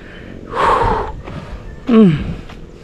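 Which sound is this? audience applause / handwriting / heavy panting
heavy panting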